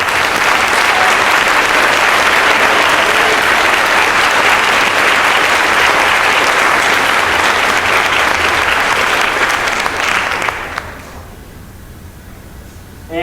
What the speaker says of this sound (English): Please give all these students a round of applause.